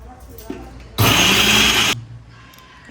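A small electric grinder briefly whirs through chilies and salt for shrimp bharta, a loud, steady burst lasting about a second, close up, with quiet room sound before and after.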